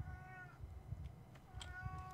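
A cat meows a few times at low volume, with short tonal calls near the start and end over a faint background.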